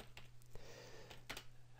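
Keystrokes on a computer keyboard while building bulleted lists in PowerPoint 2010, a handful of scattered clicks and taps, fairly quiet over a steady low hum.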